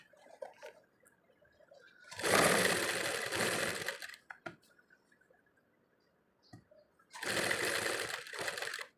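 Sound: sewing machine stitching around cut work without presser foot

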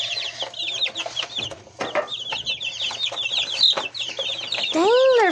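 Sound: chickens clucking

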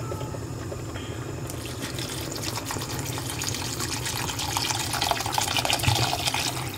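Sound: water draining from a pot

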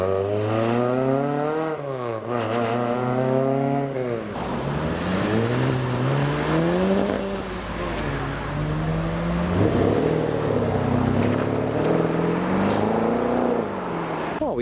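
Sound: Ford Escort Mexico Mark 1 classic car leaving car meet

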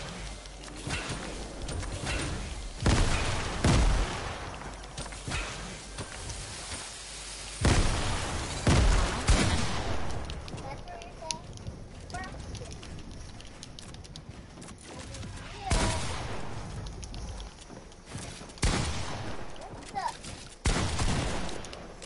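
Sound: gunfire from a gun in a video game

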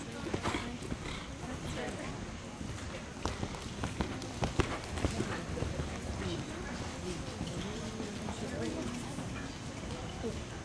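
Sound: horses cantering hooves

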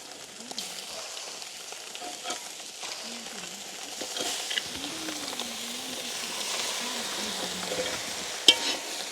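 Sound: sautéing grated carrot and sliced leeks in a pan

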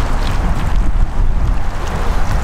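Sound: side wind blowing at a lake

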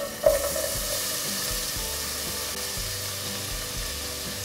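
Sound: onion frying in hot oil in a pan

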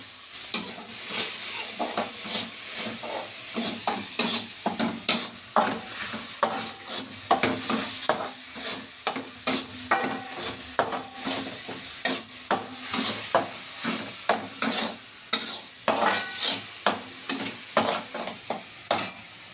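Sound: onion paste frying in oil

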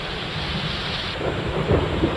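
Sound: thunderstorm with heavy rain

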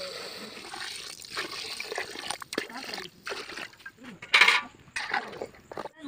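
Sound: water poured into cooking pot

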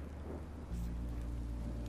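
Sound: rain in Minecraft Story Mode video game

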